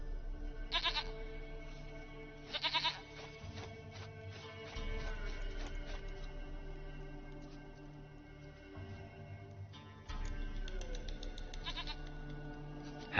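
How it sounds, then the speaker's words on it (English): Goat in The Witcher 3 bleating in several short, loud bursts over a low game ambience, with pauses between calls. "Goat of mine, dearest, sweetest goat."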